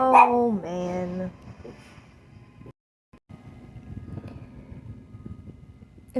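An outdoor dog lets out one or two loud, drawn-out barks at the start, followed by faint background noise and quiet stretches.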